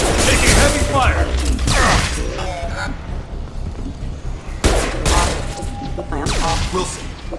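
Gunfire in Mass Effect 2: loud bursts of weapon fire and impacts in heavy combat, clustered at the start and again later, mixed with voices and game sound effects.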